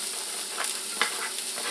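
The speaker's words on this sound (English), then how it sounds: "So we're just going to cook our red onion" Red onion frying in olive oil in a pan, a steady bright sizzle and hiss with faint crackles throughout.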